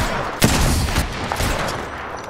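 Rapid bursts of gunfire ring out in a team firefight in the battle royale game, with a sharp loud shot early followed by a dense, steady rattle of shots continuing throughout.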